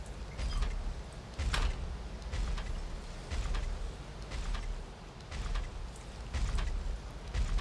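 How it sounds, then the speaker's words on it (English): Heavy, periodic mech footsteps from the video game SCUM, heard from underground as deep booming thuds roughly every second or so, each with a broad crash, over a constant low rumble. "That sound you hear is the mech walking up on the surface."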